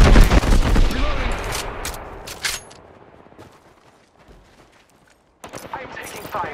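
Gunfire in Apex Legends, loud rapid bursts of shots and booms at close range in the first seconds, thinning to scattered distant cracks and quiet, then a fresh burst of shots near the end.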